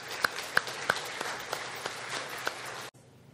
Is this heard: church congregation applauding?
yes